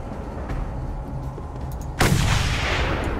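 Gunfire in the Mad Max video game, a dull ambient stretch broken at about two seconds by a sudden loud broadband blast that lingers as a rumbling tail, with no talking.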